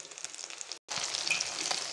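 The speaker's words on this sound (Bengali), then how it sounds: "দেখুন আমার ডিমগুলা কি সুন্দর করে ভাজা হচ্ছে" Eggs coated in cornflour fry in a pan with a steady, close sizzle and crackle, briefly cut off by a short gap of silence before the frying hiss resumes just as loud.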